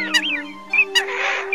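A played recording of wild waterfowl calls, the coot, teal and wild duck, gives a few short, sharp calls and chirps over a steady tonal background, fairly close and clear.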